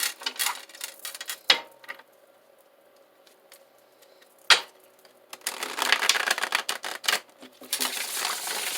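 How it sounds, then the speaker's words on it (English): A deck of tarot cards being shuffled by hand, with bursts of crisp riffling and rapid flicking at close range, separated by short quiet pauses and ending in a longer, denser run of shuffling. "One more shuffle."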